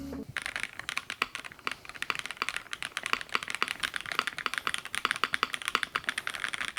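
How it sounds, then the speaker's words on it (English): Rapid, clacky typing on a Zoom65 EE V2 mechanical keyboard, keys striking in quick uneven bursts, close and clear with no voices. "The sound of the keyboard with this OP switch was pretty damn good."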